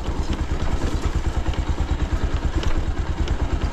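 A motorcycle runs along a slippery road, its engine throbbing in a steady close drone with some rattle and clatter, and no one speaks over it.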